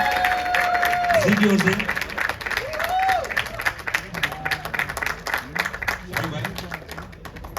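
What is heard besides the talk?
audience applause at Gadar 2 trailer launch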